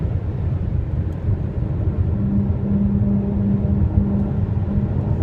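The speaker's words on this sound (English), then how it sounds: "I'm not running over the rumble strip." Car tires droning over a highway rumble strip, a steady loud low rumble with a buzzing tone that sets in about two seconds in and holds to the end, heard from inside the vehicle with no talking.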